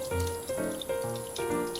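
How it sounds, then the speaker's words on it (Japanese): Tap water runs steadily into a sink while a gutted fish is briefly rinsed under it, a close, continuous splashing flow with no talking. "はい、そしたらですね、軽く洗っていきましょう。"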